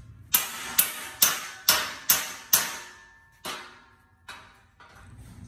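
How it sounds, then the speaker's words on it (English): Six sharp metallic hammer strikes ring out in quick succession on a welded metal beam, followed by a few more spaced, fading blows on heavy metal. "so Chris is going to try to hammer it off."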